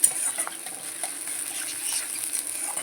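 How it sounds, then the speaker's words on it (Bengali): Onion frying in a wok gives a steady, soft sizzle with faint crackling and light patter, close and continuous, with no talking over it. "চলো পেঁয়াজটা ভেজে নিই"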